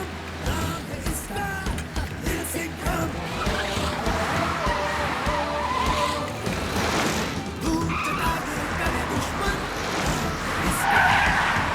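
A cartoon car speeds away with its tires skidding and squealing, a loud, continuous rush of engine and tire noise with busy animated sound effects layered over it throughout.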